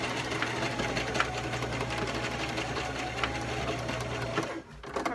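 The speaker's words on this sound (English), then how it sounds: "I'm gonna use my machine to sew it" A sewing machine stitches a fabric scrunchie with a fast, steady mechanical whir and rapid needle clatter. It runs continuously and close up, then stops abruptly near the end.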